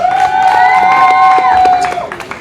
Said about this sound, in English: Clap, please, guys.